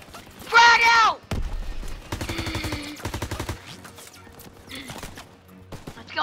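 Machine gun fire in the World War II shooter Call of Duty WW2, bursts of rapid shots mixed with combat noise and shouting voices, loud and close in short clusters.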